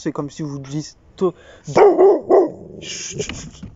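A dog barks several times at close range, sharp yaps cutting over and between someone talking in French indoors during a nail-trimming session.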